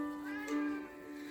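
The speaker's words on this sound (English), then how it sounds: "Even the cat is crying." A cat gives one faint meow, a rising and falling tone that sits low under a steady background hum.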